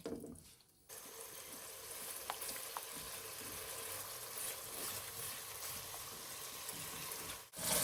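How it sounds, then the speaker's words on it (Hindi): Masala for egg tikka masala fries in a pan with a continuous crackling sizzle after a quiet opening second, occasional soft stirring scrapes, and a brief break near the end. "अब इसकी भी हम भुनाई करेंगे ताकि मसाला कच्चा ना रहे।"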